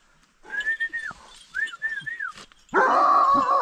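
A village dog guarding livestock whines and yelps in high, drawn-out cries, followed by a burst of louder, harsher barking close by.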